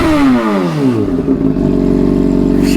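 An old Honda CBR600RR sport motorcycle revs hard while parked, its engine pitch sweeping down from a loud rev to a steady, throaty idle close by.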